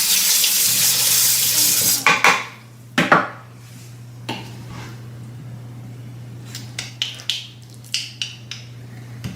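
A kitchen tap runs into a sink while a knife is washed under it. Water splashes steadily, then comes a run of sharp clinks and knocks of metal against the sink, close and alone with no talk.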